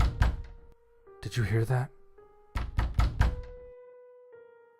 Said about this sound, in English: I heard a pounding on the door to the bomb shelter